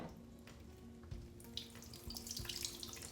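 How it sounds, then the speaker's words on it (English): Water from a tap or watering can runs into a potted orchid set in orchid bark, a soft trickle that starts faint and swells into a brighter, splashier stream toward the end. "I will water him really thoroughly to make sure that that orchid bark gets nice and moistened."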